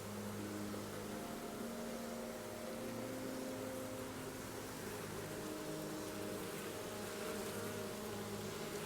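Honeybees buzzing steadily during a beehive inspection while honey supers are being added, a dense, continuous hum from many insects close by with no talk.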